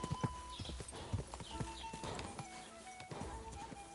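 Horse galloping in the video game Kingdom Come: Deliverance II, a fast rhythmic clip-clop of hooves with an occasional snort or whinny, close and steady over soft game ambience.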